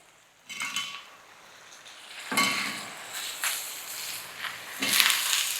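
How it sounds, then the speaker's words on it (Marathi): Drumstick pods and potato pieces tipped into a pan of softened tomato and onion, three clattering bursts of pieces hitting the pan and a spoon stirring, close and moderately loud, no talking. "आता आपल्याला ह्याच्यावर शेवग्याची शेंग आणि बटाटे टाकायचे"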